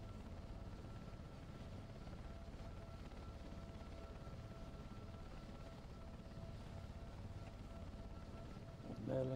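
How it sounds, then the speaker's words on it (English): A Merlin helicopter's rotors drone steadily and close as it rises into a hover, a continuous low throbbing roar with a faint whine above it. "Merlin helicopter there."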